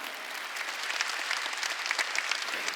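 A congregation claps in a church during a Sunday worship service. The applause is dense and continuous and fills the room without pause.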